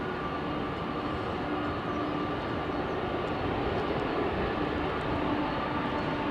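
Twin engines of a Boeing 767 spooling up for departure on runway 27L at London Heathrow, a steady, dense broadband roar that holds loud and even throughout with no voices.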